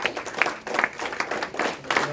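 Applause from a church congregation, offered to the Lord during a Spanish-language service: a steady, dense wash of clapping from many hands, moderately loud, with bursts of emphasis throughout.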